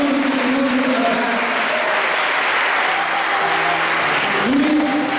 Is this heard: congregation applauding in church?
yes